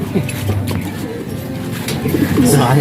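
Racing pigeons bred for pooling races coo in low, repeated murmurs close by, with faint human voices and handling noise in the background.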